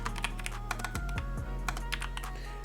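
Rapid keystrokes on a computer keyboard as a name is typed into a field, a close, steady run of clicks with a few quick bursts and brief pauses, no voices.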